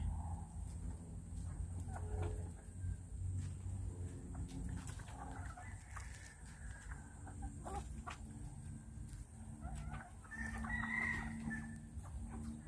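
Bantam chickens cluck and chatter continuously, with a rooster crowing near the end over an outdoor background; no one speaks.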